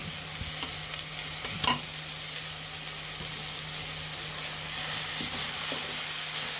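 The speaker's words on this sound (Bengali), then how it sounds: "আমরা এখন কিমাগুলো দিয়ে দিব এবং রসুন আর ধনিয়ার গুঁড়ো দিয়ে দেব" Minced meat frying with garlic and coriander powder in a pan on a gas stove, a steady close sizzle with occasional stirring scrapes and a low hum throughout.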